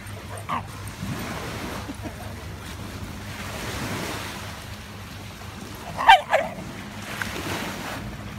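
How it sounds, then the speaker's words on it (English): A dog barks a couple of times nearby on a beach over steady ocean surf and wind, with faint bird calls in the background. "I'm sure barking in Ellie's face will get you this kick."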